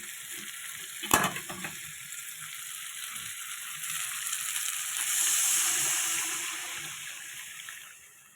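Fried potatoes and pointed gourd go back into a hot pan and sizzle steadily, with a sharp clatter at the start and a hiss that swells midway.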